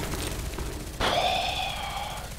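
Single sniper rifle shot in Contract Wars, an M40A6 fired at night at the Lighthouse map: a sharp crack, then a ringing tail that fades over about a second, heard faintly over a quiet background.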